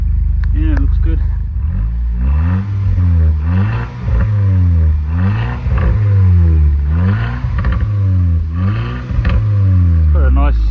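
A VW Scirocco R engine revs repeatedly in steady, rhythmic cycles of rising and falling pitch, each blip ending in a throaty exhaust burble, loud and close throughout.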